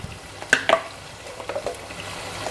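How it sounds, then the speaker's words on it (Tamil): Ground masala stirred with tomato pulp in a pan, giving soft sizzling and a couple of scraping stir strokes near the start, then quieter bubbling sizzle. "அதையும் சேர்த்துட்டு நல்லா பச்சை வாசனை போகிற வரைக்கும் வதக்கணும்"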